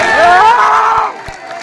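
A crowd cheering and shouting at a political speech, a loud burst of voices close and dense that fades within about a second, leaving a few faint thumps.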